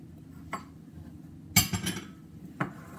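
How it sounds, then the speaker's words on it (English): A spatula stirs brownie batter of cocoa and salt in a bowl, with a few sparse clinks and knocks against the bowl amid quiet, soft scraping. "I'm going to take my spatula and I'm going to carefully stir this in"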